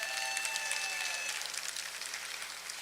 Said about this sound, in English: Let's give our MC a round of applause.